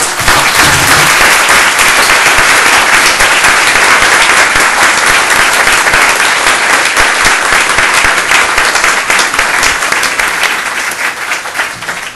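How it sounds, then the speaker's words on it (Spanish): Sustained, loud applause from an audience at the 29th anniversary ceremony of El Colef, dense clapping holding steady for the whole stretch and only thinning slightly at the very end. "Un aplauso para Chuy Montenegro."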